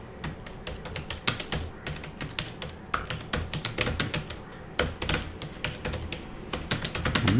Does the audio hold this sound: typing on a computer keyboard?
yes